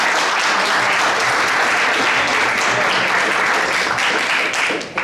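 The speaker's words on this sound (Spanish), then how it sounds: "así que un aplauso." Audience at a diabetes conference breaking into steady, dense applause, loud and sustained throughout before tapering at the very end.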